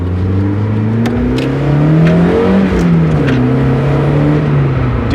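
A 1.6-litre car engine accelerating hard, with a loud, close, rising drone that climbs through gears with a brief dip between shifts.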